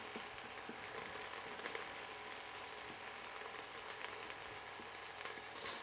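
Garlic fries in a pan for a vegan tomato soup, giving a faint, even sizzle with soft crackles throughout, quiet and distant-sounding with no voices.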